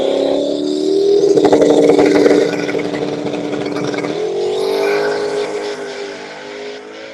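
A street car makes a drag race pass at an elimination round of a street car shootout, its engine revving hard up close, then easing and rising again as it pulls away, with crowd noise beneath.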